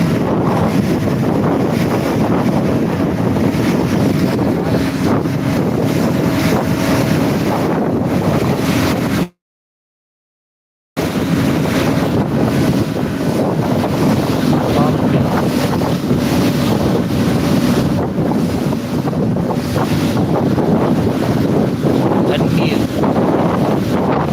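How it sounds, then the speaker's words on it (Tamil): Ferry speeding across the sea, a steady loud roar of engine, rushing water and wind buffeting the microphone, continuous apart from a short gap, with a voice faintly underneath. "பாய்ந்து செல்லும் ஃபெர்ரி"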